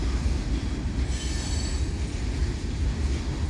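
A CSX freight train rolls past at a steady, continuous roar of wheels and cars, with a brief high squeal of wheels on rail partway through, no talking.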